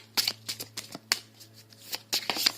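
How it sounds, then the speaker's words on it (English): Quick bursts of tarot cards being shuffled, a crisp riffling flutter repeating in short bouts over a low steady hum. "So I'm just going to shuffle these."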